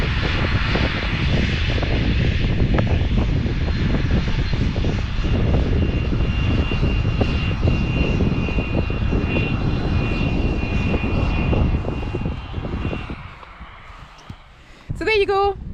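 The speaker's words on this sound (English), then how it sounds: "There's a flight into Barra and a flight into Benbecula." Passenger airplane on the runway at Benbecula airport on the Isle of Benbecula, a loud, steady engine roar with a high whine that holds for a long stretch, then fades away and leaves a quieter background.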